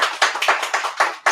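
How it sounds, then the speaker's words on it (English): Applause after a session at a digital nomad week gathering in a Zagreb garden: a small group of hands clapping at close range, about seven distinct sharp bursts in quick succession. "Round of applause"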